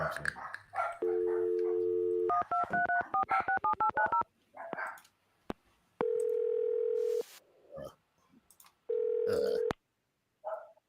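Telephone keypad tones dial out while a call is placed, with a quick run of beeps followed by long, steady ringback tones separated by silences and a few faint background voices.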